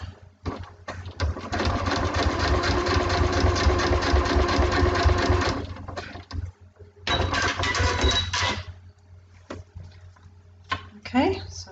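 A sewing machine stitches along a marked line on a small paper-pieced alphabet block in bursts: a long rapid run, a pause, a second shorter run, then scattered clicks and handling sounds near the end, close and fairly loud.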